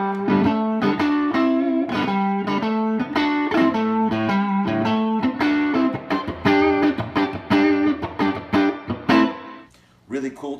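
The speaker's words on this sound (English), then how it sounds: "I'm playing through an old Tweed Deluxe" A Telecaster with Virgil Arlo pickups played through an old Tweed Deluxe amp, chiming strummed chords and picked notes with slight grit, steady rhythm, ending in a few sparse plucks and a brief dip.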